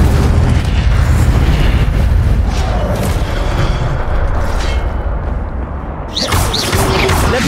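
Incendio fire spell blasts in the wizard duelling game Hogwarts Legacy, a loud continuous roaring boom with rumbling bursts that ease slightly, then a fresh crackling burst near the end.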